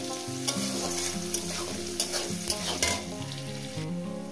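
Katla fish pieces fry with salt in a pan, a steady loud sizzle with intermittent scraping stirs and clinks, no voices.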